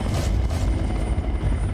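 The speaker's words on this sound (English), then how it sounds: "On board the local Kyrgyzstani helicopter" A local Kyrgyzstani helicopter in flight, with a steady, loud low rotor and engine rumble that carries on evenly throughout without any talk.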